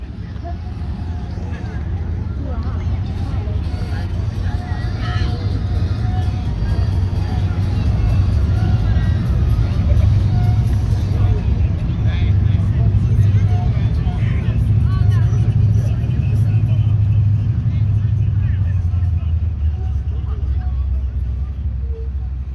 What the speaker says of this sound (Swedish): Det fanns ju såklart även ett par gamla Volvos som körde rundan här.